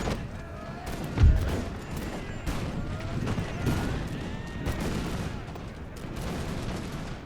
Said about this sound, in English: That firing by rank is just looking great.